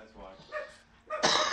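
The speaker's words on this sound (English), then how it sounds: "that goddamn dog barking in the goddamn background" A single sharp dog bark bursts out loudly near the end, following a short stretch of a person's voice.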